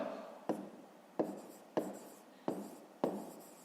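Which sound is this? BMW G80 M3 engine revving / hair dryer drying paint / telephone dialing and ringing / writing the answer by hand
writing the answer by hand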